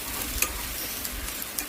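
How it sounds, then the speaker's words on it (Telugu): Ginger garlic paste frying in a pan while being stirred, a continuous close sizzle broken by a few light spoon scrapes, with no talking. "అది కూడా పచ్చివాసన పోయే వరకు బాగా వేయించుకోవాలి"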